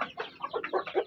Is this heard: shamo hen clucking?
yes